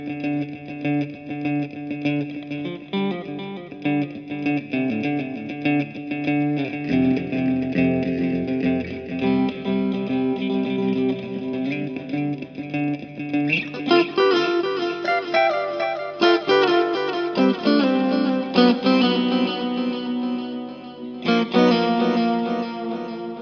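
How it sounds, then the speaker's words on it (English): Electric guitar run through distortion, overdrive and delay pedals plays sustained, saturated chords and riffs with echoing repeats, steady and loud throughout, shifting to brighter, choppier strums about halfway in. "So we got a distortion, we got an overdrive, we got space, I mean delay."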